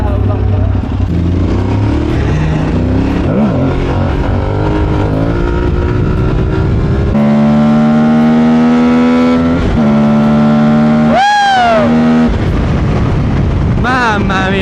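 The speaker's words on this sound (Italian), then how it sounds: "Quanto spinge quella macchina?" A car accelerates hard on a street in Naples, its engine note climbing steadily through rising harmonics before another sharp surge near the end, loud and close, with excited voices talking over it.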